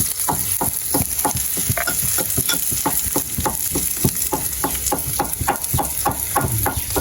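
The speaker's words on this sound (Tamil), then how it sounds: "இதை போட்டு பொரிப்போம்." Egg fries with salt in a hot pan, a steady loud sizzle with rhythmic scraping taps of a utensil stirring close by, continuous throughout with no talking.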